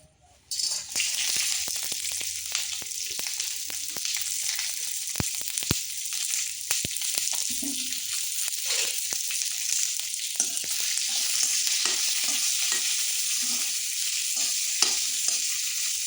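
Coriander-mint chutney ingredients fry steadily in hot oil, a dense, even sizzle running throughout with scattered scraping clicks and knocks as a spoon stirs them around the pan.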